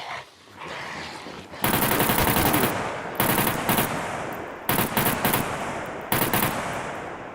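Automatic gunfire in the survival game SCUM, loud bursts of rapid shots in several separate volleys with short pauses between them, close and alone without talk.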